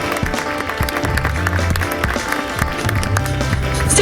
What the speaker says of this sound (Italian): un grande applauso anche loro per l'allestimento appunto floreale della serata